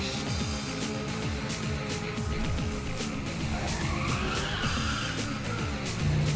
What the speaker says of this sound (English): that was a weird drift